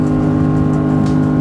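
An Audi R8 V10 engine drones loud and steady at high revs, a dense, close roar that holds evenly throughout with no voices.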